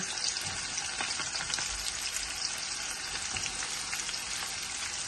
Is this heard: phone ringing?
no